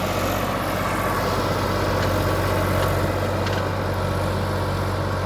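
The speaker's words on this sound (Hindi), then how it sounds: "अब भाई जो है सारे गियरों में से ऐसे चला के दिखाएगा, देखते हैं कहाँ जाके ट्रैक्टर दबेगा" A tractor tills a field in fourth gear, its engine running as a loud, steady low drone with a constant rumble that continues without pause.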